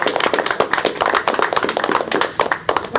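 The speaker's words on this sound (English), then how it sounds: "usually welcome a new commissioner with a round of applause" A room of people claps in a lively round of applause to welcome a new commissioner at a city economic development authority meeting, with dense, uneven hand claps and no talking.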